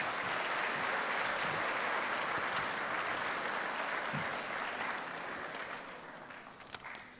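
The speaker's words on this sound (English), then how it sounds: "Let's give this group a huge round of applause." An audience at an eighth-grade class registration event applauds in a dense, sustained wash of clapping that holds steady, then gradually thins and fades toward the end.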